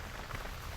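Steady rain falls outdoors during a birthday cooking session, a dense even hiss of drops on surfaces throughout the short moment.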